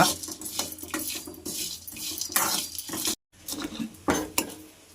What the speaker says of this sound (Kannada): ಇದನ್ನು ಒಂದು ಸ್ವಲ್ಪ ಕಲರ್ ಚೇಂಜ್ ಆಗೋ ಗಂಟ ಕೆಂಪು ಕಲರ್ ಬರೋ ಗಂಟ ಹುರ್ಕೊಳ್ಳೋಣ